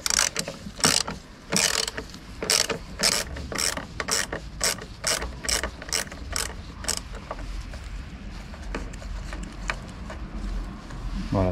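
Torx T20 bit backing out screws on the fuel filler door of an Opel Astra H, a quick series of sharp ratcheting clicks in bursts, close and fairly loud, with no talking.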